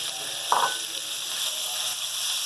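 Fine minced meat hitting hot oil with ginger, garlic and cumin, a soft steady sizzle over low heat with one brief clatter near the start, close and quiet.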